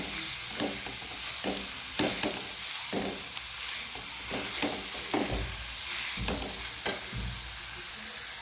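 Grated mango being stir-fried in a pan for sweet mango murabba, with repeated scraping strokes of a spatula over a steady low sizzle, close and fairly loud, no voices.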